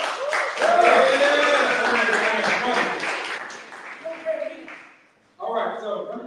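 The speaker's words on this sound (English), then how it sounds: "let's clap it up" Audience applause and cheering at a live comedy event fill the room, loud and dense for about four seconds, then thin out and fade. A voice comes in over the tail end.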